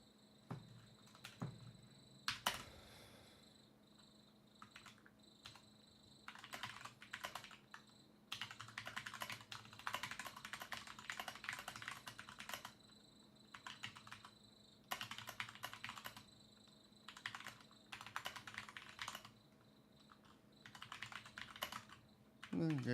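Typing on a computer keyboard: bursts of quick, close key clicks come in irregular clusters with short pauses, over a faint steady background hum.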